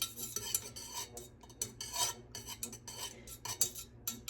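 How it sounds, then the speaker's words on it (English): A utensil stirs melted soy wax mixed with fragrance oil in a container, giving a quick series of close scraping and clinking strokes with brief pauses between them. "I'm going to stir. I want to make sure I get all of that fragrance evenly distributed throughout this melted wax"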